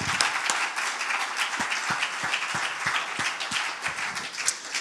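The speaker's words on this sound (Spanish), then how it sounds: "Stand up and applaud Christ." Church congregation applause fills the space, many hands clapping together with a few distinct rhythmic claps standing out, fairly steady and moderately loud.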